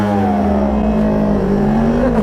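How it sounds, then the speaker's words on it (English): Yamaha R1 and Kawasaki ZX-6R sportbikes launch in a 0 to 30 drag race, their engines roaring loud and close with a continuous rising pitch as they accelerate. "Okay, 0 to 30 drag race."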